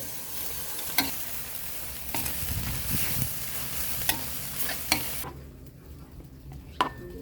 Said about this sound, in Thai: ผัดกะเพราเห็ดโคน ใส่หมูสับ หอมๆเลยค่ะ